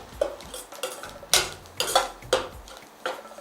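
Ginger and shallots frying in a pan for ginger curry, stirred with a metal spoon that clinks and scrapes against the pan in a quick, irregular rhythm of about eight knocks, close and alone.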